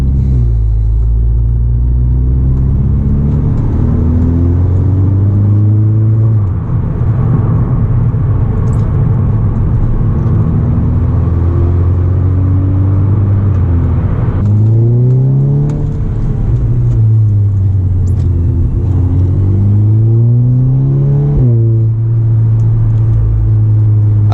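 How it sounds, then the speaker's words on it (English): A Mk6 Golf R engine, Stage 2 tuned with an MTM downpipe, rumbles loud and close, idling low then revving up several times in rising swells before settling back to a deep idle. "really makes quite a different sound compared to a standard Golf R because of that larger downpipe"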